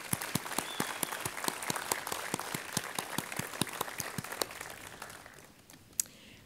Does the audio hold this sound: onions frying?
no